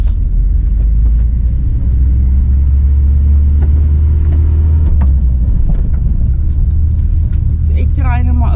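Low droning engine of a VW Kombi van driving up Paarlberg, a steady close rumble with slight revving, people talking over it throughout.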